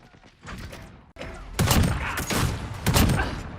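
Video game gunfire bursts out in loud, dense volleys after a quieter start, with shots crowding close together near the listener and no talk over them.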